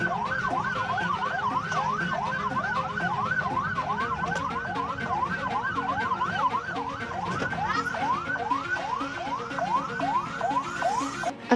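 An ambulance siren wails in quick repeated up-and-down sweeps on a street in Bogor, loud and continuous throughout, with traffic noise beneath it and no talking.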